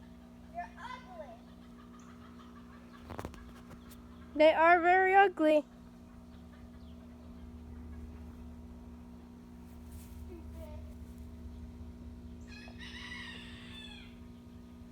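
Roosters give one bursting crow near the middle and a shorter, fainter crow-like call later, over a quiet background with a few clucks. A person talks at times between the calls.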